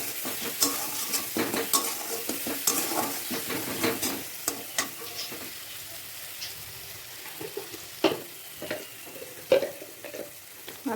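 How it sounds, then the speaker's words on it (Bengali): Masala with salt and turmeric being stirred and fried in a pan: repeated close scraping and clattering strokes of a spoon over a light sizzle, busy at first and then sparser. "দিয়ে ভালোভাবে মশলাটা নেড়ে চেড়ে কষে নিতে হবে"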